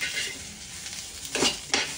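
Onion, coconut and spice powders roast in a dry pan, a soft steady hiss broken by two brief scraping strokes of a spatula near the end.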